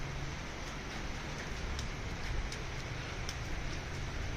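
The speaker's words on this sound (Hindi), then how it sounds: "ये देखिए बहुत तेज़ बारिश लगी है।" Heavy monsoon rain pouring onto an L-shaped upper terrace, a dense, steady hiss of downpour with faint patters and drips throughout and no voices.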